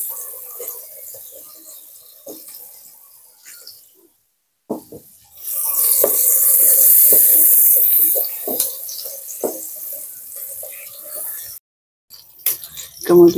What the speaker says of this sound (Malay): Okay, kita tumislah bahan-bahan ini ya.